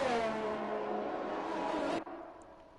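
An F1 car in the racing video game F1 2021 at the Spa circuit, screaming at high revs toward Eau Rouge on soft tyres before the engine note cuts away abruptly near the end.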